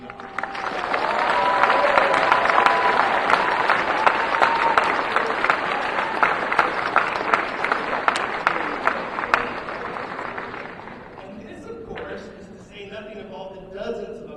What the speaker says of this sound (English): I want to take a second here to give a huge round of applause